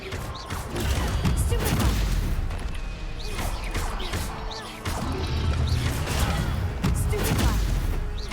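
A fire spell is cast in Hogwarts Legacy during busy combat, giving dense crackling bursts, crashes and impacts that roll on almost without a break, loud and close.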